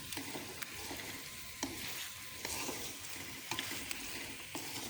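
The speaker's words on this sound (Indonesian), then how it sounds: "Terus ini kita tumis lagi sampai bumbunya matang" Vegetables and spices for soy sauce chicken sizzle in a pan, a steady bright frying hiss broken by intermittent scraping clicks of a utensil stirring, close up and with no voices.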